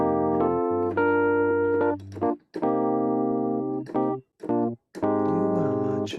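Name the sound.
keyboard playing a song's breakdown with extended chords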